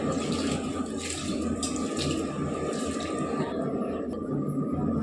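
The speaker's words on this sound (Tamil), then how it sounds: "சிக்கனுக்கு இப்போ தண்ணி ஊற்றிடலாம்." Water is poured into chicken cooking in a village kitchen, a steady splashing, running pour that continues throughout at close range with no talk over it.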